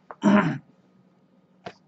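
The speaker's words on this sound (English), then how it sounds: "Had to blow my nose." A single short, forceful nose blow, followed by a brief pause and a small sniff.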